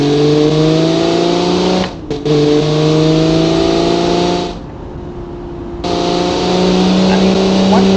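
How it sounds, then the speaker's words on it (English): A 1940s-style car in the Automation/BeamNG driving game revs hard through its power band, producing a loud, sustained engine roar with brief drops in pitch as it shifts or lifts off, then climbing again. "once the car does get into its power band, the thing goes"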